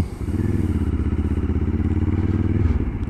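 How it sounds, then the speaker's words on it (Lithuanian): A 2025 Moto Morini X-Cape 700 adventure motorcycle engine revs steadily and loudly, a throaty low rumble holding high revs throughout, close by, with no talking. "Variklis labai mėgsta apsukas."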